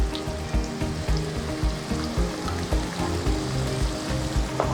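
Ginger garlic paste frying in a pan for nargis kofta, a steady loud sizzle with a low rhythmic bubbling pulse running throughout, no talking.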